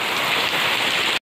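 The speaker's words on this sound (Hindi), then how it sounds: "यहाँ पे बारिश बहुत ज़्यादा तेज़ हो गया है" Heavy rain pours down in a dense, steady roar of broadband hiss with no speech, close and loud throughout before cutting off abruptly.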